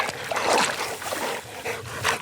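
A dog moving through water during outdoor trapping work stirs up soft splashing and sloshing with a few whimpery dog sounds mixed in, close and moderately loud.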